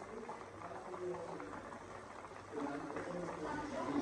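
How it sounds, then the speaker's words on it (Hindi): Water bubbling at a boil in a pot for lemon chicken pulao, a steady moderate simmering hiss that grows slightly louder partway through, with no talking over it. "पानी को बॉयल आ गया"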